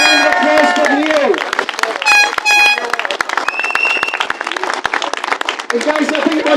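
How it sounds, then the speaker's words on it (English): Crowd applause and cheering at an outdoor anti-war rally in London, loud and continuous throughout, with voices and a brief horn-like tone rising over the clapping. "A big round of applause for Neil."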